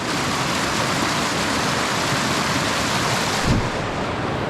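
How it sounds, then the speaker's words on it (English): A rushing creek at a trail crossing in the Grand Canyon pours in a loud, steady broadband roar of water. It ends in a brief low thump near the end. "We've reached the creek crossing"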